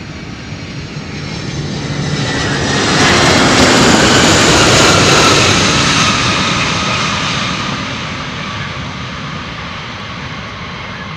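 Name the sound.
UPS freighter jet aircraft departing Louisville runway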